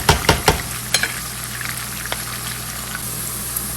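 Onions frying in hot oil in a pan for a qeema, a steady close sizzle with a few sharp stirring clatters at the start, no talking.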